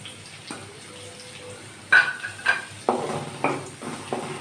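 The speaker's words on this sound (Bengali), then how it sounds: "পেঁয়াজ আর রসুনটা হালকা ভাজা ভাজা করে নিব" Finely chopped garlic and onion frying lightly in a pan for chowmein, a soft low sizzle broken by several distinct scraping strokes and clinks of a utensil against the pan.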